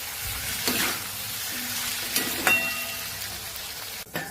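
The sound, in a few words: stirring okra curry frying in pan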